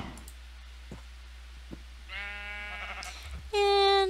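Sheep bleating in the video game Minecraft: a few faint clicks, then a wavering bleat and a louder, clear final bleat, all over a low steady hum.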